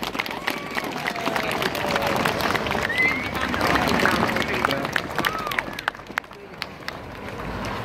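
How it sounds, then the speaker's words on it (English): Crowd applause at an outdoor Christmas light switch-on in Newton builds into sustained clapping with scattered voices, then thins out and tails off near the end. "So can we give them a big round of applause"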